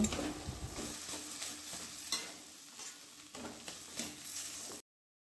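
Fish chop stuffing is stir-fried in a pan, giving a soft, low sizzle with repeated light scrapes and stirs of a spatula, quiet and close, before cutting to silence near the end.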